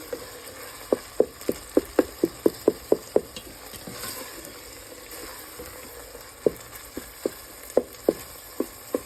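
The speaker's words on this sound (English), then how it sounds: "So once we get the ground meat brown," Ground meat browns in a pan for chili with a steady low sizzle, broken by sharp, regular clicks and scrapes of a utensil stirring against the pan. The clicks come in quick runs, then pause.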